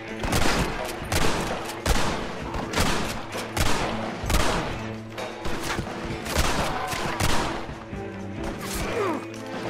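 Rapid gunfire in the Red Dead Redemption video game, a dense run of loud, repeated shots and impacts lasting several seconds without pause.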